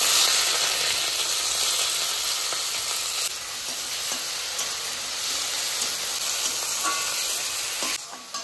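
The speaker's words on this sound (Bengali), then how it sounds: "গরম হয়ে গেছে, এবার আমি পেঁয়াজ কুচানোটা দিয়ে দেবো" Chopped onion sizzling in hot oil in a wok, a steady close frying hiss with faint stirring scrapes throughout, dipping briefly near the end.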